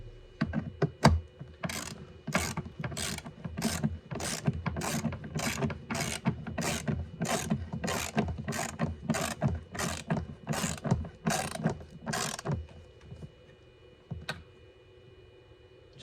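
Screws being run down into a plastic fan box lid on an Audi A6 cooling fan, a steady series of about twenty evenly spaced ratcheting clicks up close, stopping near the end.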